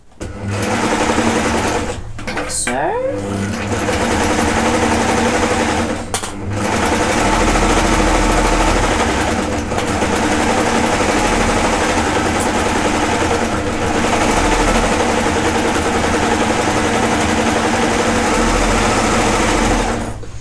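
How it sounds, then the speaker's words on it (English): A domestic sewing machine stitches steadily down the side seam of a summer basics garment, running loud and close in long continuous bursts with a few brief pauses, and no talking. "So I'm just sewing all the way down the side seam."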